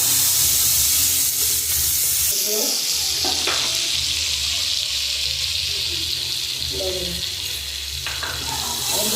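Taro stalks and prawns sauté in a pan at home, a steady close sizzle with the scrape of stirring running throughout the whole stretch.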